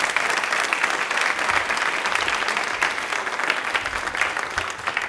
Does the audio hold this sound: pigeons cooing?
no